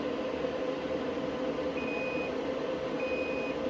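Two short electronic beeps from a tester checking intact fuses on a solar PV input sound a second apart, thin and steady, over a constant droning background.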